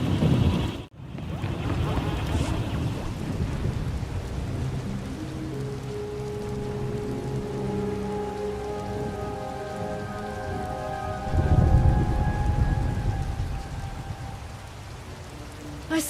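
Steady rain pours through a thunderstorm in a stormy game environment, a dense hiss on surfaces with a low rumble and a sharp break near the start, under faint tonal music.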